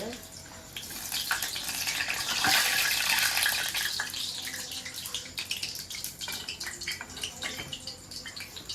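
Water runs from a tap for hand washing in a home kitchen, a steady hiss and splash close by that rises and then eases, with faint clatter and quiet talk in the background.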